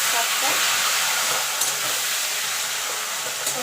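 Taro leaves go into a pan of fried coconut and hit the hot oil, giving a steady broadband sizzle that holds at the same level throughout, with a couple of brief sharper crackles.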